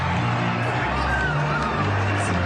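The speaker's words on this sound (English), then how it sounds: "Can you hear everyone cheering?" A large outdoor crowd cheers and murmurs as a total solar eclipse arrives, a steady roar of many voices and distant shouts blending into a continuous wash of noise with no pause.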